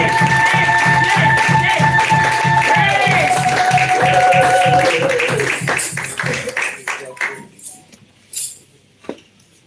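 A church congregation at a Sunday service applauds in steady rhythmic clapping over music and voices, the sustained clapping fading out into a few scattered claps and quiet near the end.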